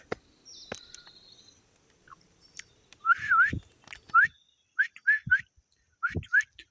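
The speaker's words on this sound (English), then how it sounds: "Or just a whistle." A person whistles several short, rising whistle calls in separated bursts to call an abandoned puppy outdoors on a homestead in Portugal, with faint background sounds between the bursts.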